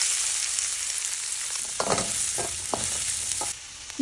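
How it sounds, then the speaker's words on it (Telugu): Onions and cumin seeds frying in hot oil in a pan for tomato rice, a steady close sizzle with a few scraping stirs of a spoon through the middle, no voices. "జీలకర్ర ఇలా ఫ్రై అయ్యాక ఆనియన్స్ వేసుకోండి."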